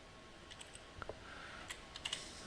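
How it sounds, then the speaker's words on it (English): Quiet typing on a computer keyboard with three fingers, a few soft scattered key clicks in short bursts over faint room noise, no speech. "My three-finger typing method is slowing us down here, sorry."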